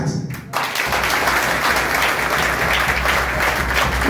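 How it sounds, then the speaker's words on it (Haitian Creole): A crowd bursts into loud, sustained applause that holds steady to the end. "C'est pour ça qu'on applaudit pour Dieu de façon extraordinaire."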